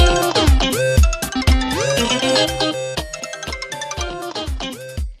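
A phone ringtone plays an incoming-call tune, a loud, close, bouncy melody of repeated punchy notes with a steady beat that runs for several seconds and then stops abruptly, with no voices over it.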